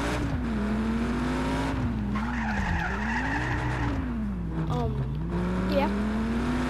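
In the video game Just Cause, a vehicle's engine revs up and down with loud tire squeals and skidding, close and continuous, with a voice talking over the driving.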